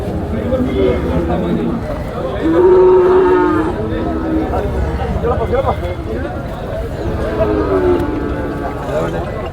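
A cow moos several times, loud and close, with deep drawn-out calls over background chatter.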